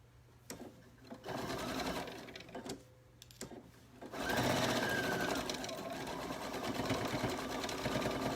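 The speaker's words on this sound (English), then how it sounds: "Get to the corner of the pocket, leave your needle down, and then you can raise your presser foot and swing it around." A sewing machine stitches a pocket onto a children's t-shirt dress. Close mechanical whirring comes in short bursts with pauses at the pocket corner, then settles into a louder, sustained stretch of stitching.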